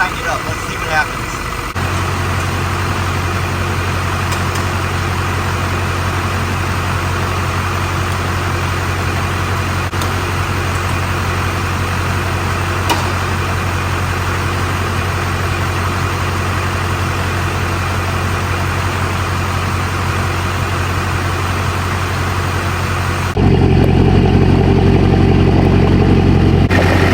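A twin-turbo Duramax diesel truck engine runs at a steady idle, a loud continuous low rumble close by, shifting to a deeper, heavier tone near the end.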